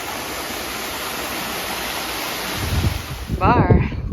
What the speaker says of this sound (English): Oh, little waterfalls.